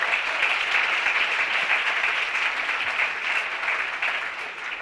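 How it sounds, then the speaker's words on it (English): A crowd at the VOWOC 2018 Trailblazers Awards Ceremony breaks into sustained applause, a thick, even roar of many hands clapping that stays loud and steady for several seconds without any speech. "A big round of applause."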